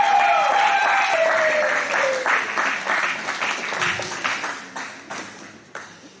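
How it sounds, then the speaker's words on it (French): A church congregation at a Sunday school day applauds loudly, dense clapping filling the room at first and then thinning into scattered, fading claps toward the end. "acclamons très fort pour notre Seigneur"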